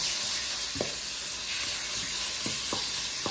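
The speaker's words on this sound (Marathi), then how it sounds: "हा हापूस आंब्याचा पल्प घालून हा खवा आपल्याला आता चांगला परतून घ्यायचा आहे" Khoa mixed with Alphonso mango pulp sautéing in a pan: a soft, continuous sizzle and hiss broken by several light scraping taps of stirring.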